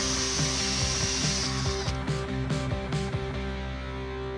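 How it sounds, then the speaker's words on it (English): A power drill bores holes into a retaining piece for the clips on a Delahaye transmission, a steady whirring hum with several brief bites and catches as the bit cuts through. "gonna drill a couple holes so that the retaining clips on the Delahaye transmission can work with the piece that we found"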